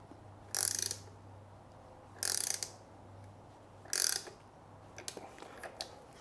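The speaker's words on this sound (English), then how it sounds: "let's get these torqued down here" A ratchet clicks in three short, crisp bursts while bolts are torqued down on a T Bucket hot rod, with a few lighter mechanical taps afterward against a quiet garage background.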